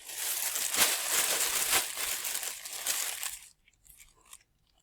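A plastic bag crinkling loudly up close for about three seconds, a dense rustling crackle, then a few faint scattered rustles before it falls quiet.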